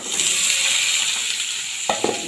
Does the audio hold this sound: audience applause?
no